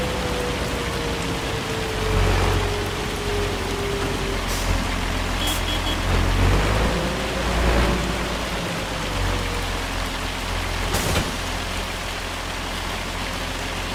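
Rain pours during a storm in the Farming Simulator 25 video game, a steady wash of falling rain with a low engine hum and a few brief clicks mixed in.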